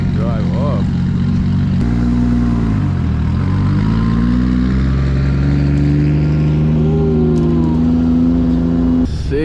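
Sports car engines on a Mexican street, a steady loud low drone of idling and revving that rises and falls as cars pull away, with a voice talking over it near the start.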